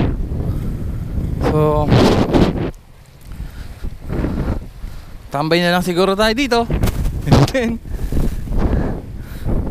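Strong wind gusting high up outdoors, a steady rushing roar buffeting the microphone throughout while someone talks over it.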